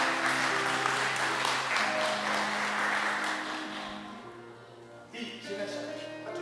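A church congregation at a Sunday service in Toulouse breaks into sustained, dense applause that fills the room, slowly fading toward the end as a few voices and tones rise over it.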